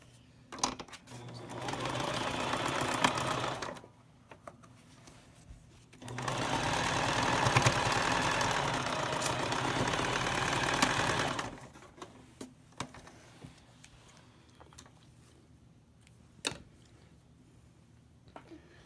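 A sewing machine stitches the corner of a boomerang bag in two steady whirring bursts of a few seconds each, close and even, separated by quiet pauses with small handling clicks afterward.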